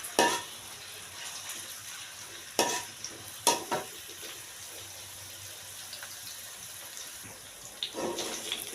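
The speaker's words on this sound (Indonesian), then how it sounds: "Kita tumis bawang bombaynya sampai layu ya" Onions sizzling steadily as they are stir-fried in a pan until soft, with a spatula scraping and knocking against the pan in a few sharp bursts.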